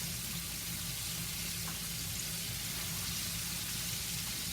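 Steady loud sizzling and crackling of chicken wings frying in hot oil in a skillet, continuous throughout with no voices.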